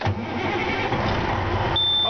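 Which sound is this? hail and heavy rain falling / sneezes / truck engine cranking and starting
truck engine cranking and starting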